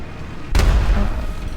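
A single deep cannon blast from a video game booms out suddenly, loud and close, followed by a rumbling low tail that fades slowly.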